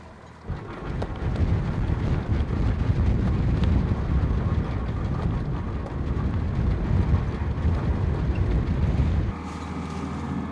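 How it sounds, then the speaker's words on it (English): Strong gusting wind on a sailboat riding at anchor in Alaska in winter, a loud, close, sustained low roar and buffeting that rises suddenly, holds for several seconds, then drops away. "It's definitely gusting way over 20 knots right now"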